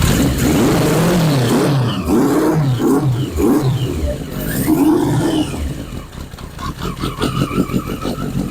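A 1981 Yamaha Maxim 650 motorcycle, revived after 20 years with cleaned carburetors, roars loudly as its engine catches and revs in rising and falling surges, then settles into a rapid, pulsing idle.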